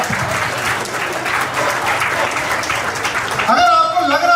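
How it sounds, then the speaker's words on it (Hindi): An audience at a Hindi poetry event gives a guest hearty applause, dense steady clapping from a crowd, after which a voice begins speaking over the fading claps. "आप लोग सती जी का सम्मान में जोरदार तालियां उठा सकते हो"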